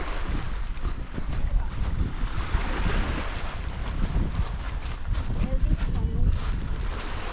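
Waves breaking on a beach on Siquijor in the Philippines, a rough, continuous surging wash heavily buffeted by wind noise on the microphone.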